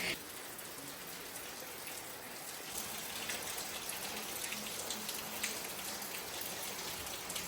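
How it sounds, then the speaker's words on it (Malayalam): Heavy rain pours down steadily and loudly, a dense continuous hiss of drops on surfaces running throughout with no break or rise. "മഴ ഇതാ തകർത്ത് പെയ്തുകൊണ്ടിരിക്കുകയാണ് കേട്ടോ"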